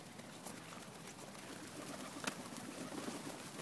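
Pigeons coo softly near a park bench amid a faint, steady outdoor background hiss, with no clear talk.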